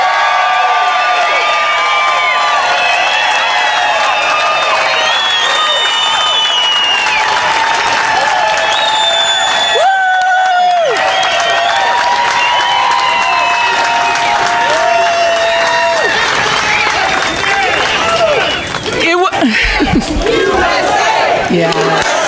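A large crowd at an outdoor political rally in Wisconsin cheers, screams and applauds without pause, loud and dense throughout, with whoops and shouts rising above the roar.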